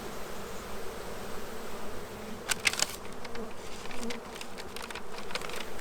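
Honeybees in an opened beehive, a dense and steady buzzing swarm with a few louder bursts as individual bees pass near.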